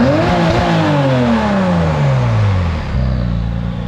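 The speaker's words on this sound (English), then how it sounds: "New titanium exhaust for the 996 turbo, because it doesn't sound good now, and it drones" A Porsche 996 Turbo's twin-turbo flat six, running an aftermarket exhaust, is revved loud and close, the engine note sweeping down as the revs fall back toward a low idle rumble.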